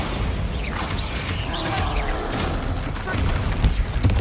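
A Bombarda blasting-spell explosion in Hogwarts Legacy: a dense, booming blast with crashing debris and whooshing magical effects that roll continuously under a busy battle mix, with voices cast over it.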